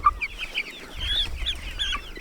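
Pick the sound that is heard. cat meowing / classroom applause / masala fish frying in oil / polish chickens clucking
polish chickens clucking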